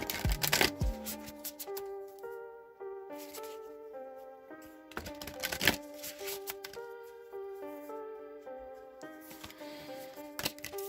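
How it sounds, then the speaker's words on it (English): A deck of cards being shuffled, with two brisk riffling bursts over a steady bed of soft melodic background music. "let me just give this deck a few shuffles"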